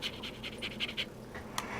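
A dog pants close by in a quick, steady rhythm of short breaths, fairly soft and heard alone in a quiet room.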